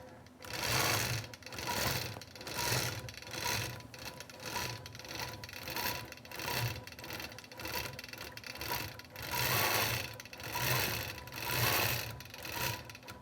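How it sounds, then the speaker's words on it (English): A computerized sewing machine quilt-stitches a small leaf pattern, running steadily close by with a rapid even needle clatter, rising and easing in pulses as it moves through the design, and no voices. "let the machine go to the start point, and it's going to start stitching these little leaves"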